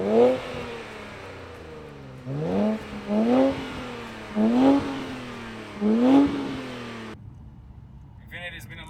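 A 2023 Infiniti Q50 RedSport engine revs hard in four repeated bursts, each pitch climbing then dropping back to idle, close and loud, before cutting off near the end.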